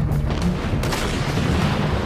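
Heavy video game gunfire crackles in a dense, continuous barrage of booming shots and rattling bursts, loud and close throughout.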